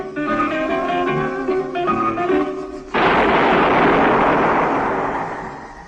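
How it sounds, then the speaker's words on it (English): A single gunshot in an old-time radio crime drama about Harry Lime, set in Vienna, bursts out loud and sudden after zither music, then a broad noisy roar that slowly fades. "That was the shot that killed Harry Lime."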